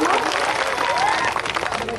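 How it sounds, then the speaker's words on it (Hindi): Applause from the seated audience at a 2015 mushaira poetry gathering in Raniganj, Pratapgarh, a dense crowd clapping with a faint voice or tone audible beneath it, thinning slightly toward the end. "एक बार जोरदार तालियों से मेरी हौसला अफजाई फरमा ले।"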